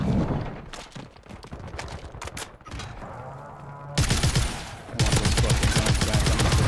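Gunfire erupts in the Warzone video game as dense bursts of rapid automatic shots crackle, with a short lull before loud sustained volleys resume close by.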